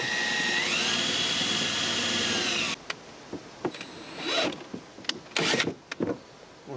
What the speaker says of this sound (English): Put a piece of tape over here so when I drill through it, it won't scratch the outside